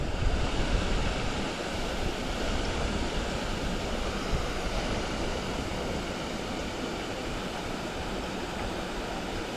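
A small waterfall spillway on a golf course pond, a steady loud rush of falling water close by, continuous broadband roar without pauses.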